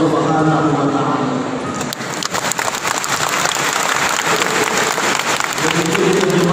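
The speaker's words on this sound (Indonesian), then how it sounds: "Coba, ini tepuk tangannya waktu bahasa Inggris" Sustained applause from a large audience at a religious gathering in an indoor sports hall, loud and continuous, with a voice heard faintly over the clapping.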